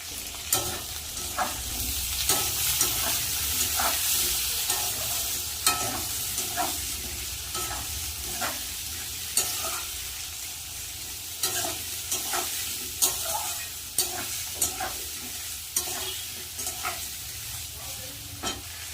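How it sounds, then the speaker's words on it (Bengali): Chopped onions sizzle steadily in hot oil in a pan with lightly fried potatoes, for a home-style fish curry, while a spoon scrapes and stirs in a regular rhythm of sharp taps over the continuous hiss. "এবার পেঁয়াজগুলো দিয়ে দেবো কেটে রাখা পেঁয়াজ ভালো করে"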